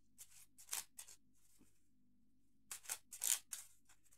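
Playing cards shuffled during a card reading, heard as two separate clusters of crisp, papery riffling bursts with a quiet pause between them, close by and alone.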